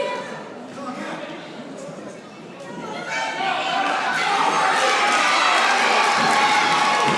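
A sellout hometown crowd at a live wrestling show cheers and roars, building from a murmur into a loud, sustained wall of noise over the last few seconds, with a commentator talking over it.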